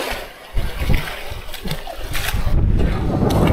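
Seawater splashing in as a wave washes up on a Shrivardhan beach, a brief rushing surge building and holding loud through the end, with a voice calling out over it.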